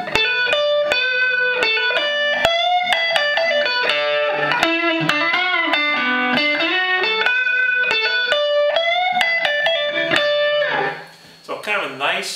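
A Fender Standard Stratocaster through a ZT Lunchbox amp with the gain turned up plays a continuous, distorted solo line of bent and sustained notes for about ten seconds, then fades out.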